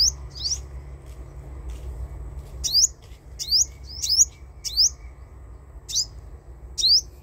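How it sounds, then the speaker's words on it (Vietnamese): Sunbird chirping near a caged female bird, a series of short, sharp high tweets in quick bursts, fairly close, over a low steady background hum. "Con chim hút mật."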